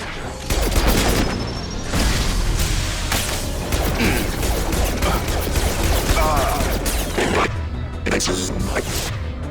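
Gunfire in a Mass Effect 2 firefight, dense bursts of loud shots and booms over a constant roaring combat din, with game voices mixed in.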